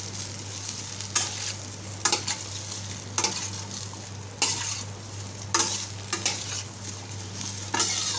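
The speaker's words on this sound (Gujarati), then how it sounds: "મુઠિયા નાખી દીધા છે અને સારી રીતે મિક્સ કરી લઈએ" Dudhi muthiya, bottle gourd dumplings, sizzle in oil in a steel kadai while a spoon stirs them with a steady scraping stroke about once a second over constant frying hiss. No voices.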